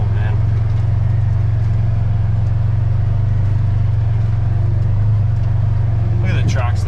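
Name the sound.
tractor engine running while clearing land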